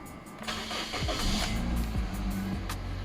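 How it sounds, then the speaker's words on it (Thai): A used 2013 Toyota Altis 1.6E CNG sedan is started up: a brief starter crank catches into the engine firing, then settles into a steady idle, heard close and without talk. "ค่นนี้สตาร์ทให้ฟังเสียงด้วย"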